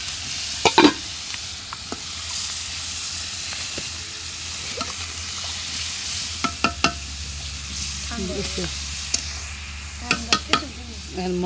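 Onions and spices frying and being stirred in a pot for a chicken curry, a steady sizzle broken by sharp scraping stirs, with occasional brief voices nearby.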